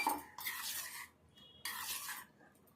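Egg batter made with wheat flour mixed by hand in a bowl, two soft bursts of whisking and scraping separated by a short quiet pause, close and fairly faint.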